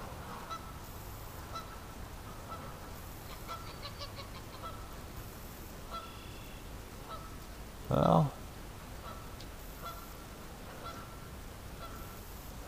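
Canada geese honking outdoors near a pen of ducks and geese, with faint distant honks spread throughout and one loud, close burst of honking midway, and a brief word spoken.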